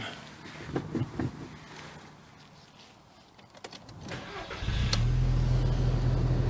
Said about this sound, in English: we start the engine